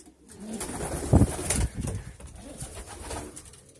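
Pigeons cooing inside a pigeon loft, several overlapping low throaty coos close by over a steady background hum, with no talk.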